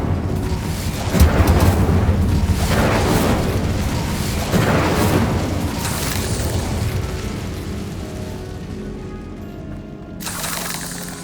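Bombarda spell blasts in the Hogwarts Legacy video game, a string of deep booming explosions with rumbling debris, loud and continuous, fading slightly before a final burst near the end.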